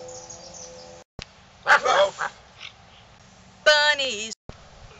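Children and adults in a group chant imitate dogs barking with a few short yipping woofs, loud and close, following a sung line.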